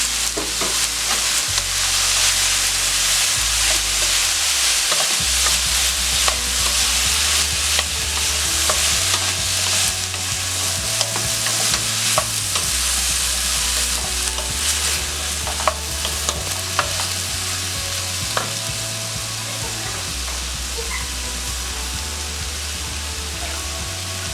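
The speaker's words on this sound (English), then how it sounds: "we're still cooking our veggie chunks" Vegan veggie chunks fry in a pot with a continuous loud sizzle, while a spoon stirs them in repeated scraping strokes throughout.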